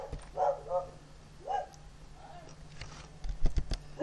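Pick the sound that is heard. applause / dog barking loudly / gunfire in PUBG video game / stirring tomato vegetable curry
dog barking loudly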